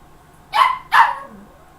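Two sharp dog barks, fairly close and loud, spaced about a third of a second apart, in an indoor setting where an online auction is being hosted; the second bark trails off, with no talk during it.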